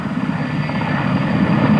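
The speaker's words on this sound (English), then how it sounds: "The Mi-26 Halo is the world's largest helicopter." Loud, steady rotor and engine roar of a Soviet Mi-26 Halo heavy-lift helicopter, a continuous dense drone with a low thumping throb and no talk.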